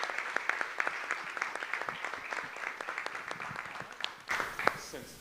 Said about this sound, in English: One big round of applause for our athletes.